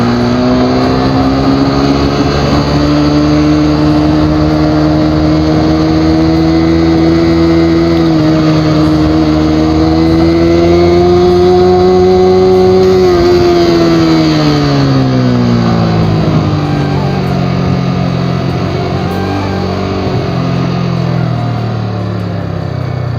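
A Yamaha R15 motorcycle engine is held in first gear and revs hard and steadily, loud and close, its pitch climbing and sagging as the throttle varies, with no talking.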